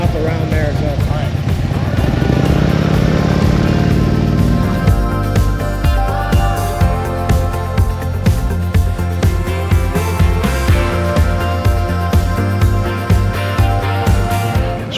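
Harley-Davidson motorcycles line up with engines running, a dense, steady, loud motor rumble with rhythmic low thumps that carries throughout, with some background music-like tones mixed in.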